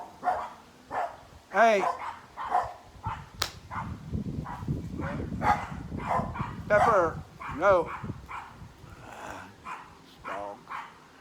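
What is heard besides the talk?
dog barking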